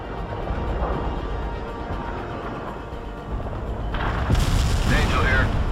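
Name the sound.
Daisy Cutter heavy bomb explosion in World in Conflict video game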